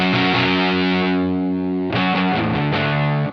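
Electric guitar through a fuzz pedal at a weak, low-gain setting, two sustained distorted chords ringing close and alone, the second struck after a short pause and restruck briefly near the end.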